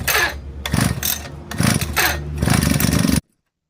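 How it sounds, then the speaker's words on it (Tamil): A petrol brush cutter engine starting in a home garden, loud rough bursts of two-stroke engine noise sputtering and catching repeatedly before cutting off abruptly. "இப்போ பார்த்தீங்கன்னா இன்ஜின் ஸ்டார்ட் ஆகிற மாதிரி சத்தம் கேட்டதில்ல"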